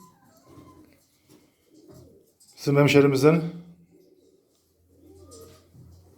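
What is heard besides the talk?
birds cooing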